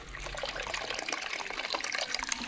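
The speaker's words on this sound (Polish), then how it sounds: "choinka zalana wodą" Water pouring from a watering can into a bucket holding a freshly cut Christmas tree, a steady splashing trickle heard close up and alone.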